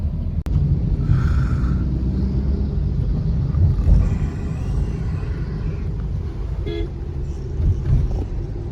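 Steady low engine rumble and road noise from inside a moving car, with a short horn toot partway through.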